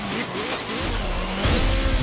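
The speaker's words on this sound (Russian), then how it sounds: "Сейчас будет жесткое торможение и, походу, будет авария" A car in Forza Motorsport 7 brakes hard and crashes: engine and tire noise shift into a heavier low rumble and a jolt near the end of the short burst, with a voice faintly present.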